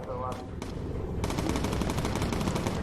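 Rapid machine-gun fire rattles from a bomber's guns in the Bomber Crew video game, a dense loud burst that starts after a short opening stutter and continues without pause.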